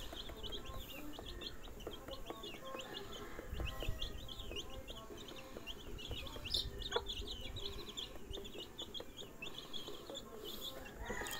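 Chicks peeping and clucking softly while they feed, a steady scatter of small chirps over a continuous low background rumble, with no talking.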